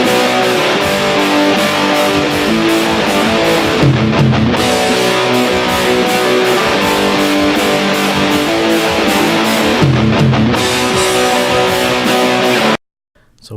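Dense, hollow-sounding music plays continuously with a thin, phasey character, as if stripped of its center, then cuts off abruptly near the end.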